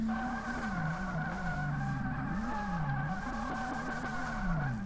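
Subaru BRZ drifting in DRIFT21, engine droning steadily with pitch swinging up and down as the throttle is worked, tires squealing continuously throughout at a loud, constant level.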